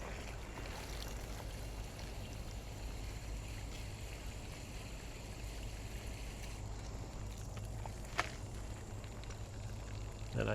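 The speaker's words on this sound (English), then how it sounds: "Water it in real good." Water pours steadily onto the soil of a freshly repotted Pinanga disticha dwarf palm in a continuous, faint, even splashing and trickling wash.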